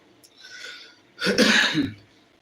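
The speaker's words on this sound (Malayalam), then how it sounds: "ചുമ പിടിച്ചിട്ട് എനിക്ക് വലിയ ഒരു ബുദ്ധിമുട്ടാണ്" A single harsh cough or throat-clearing burst from a person, close and fairly loud, preceded by a softer breathy sound, in a home kitchen while making jaggery ghee payasam.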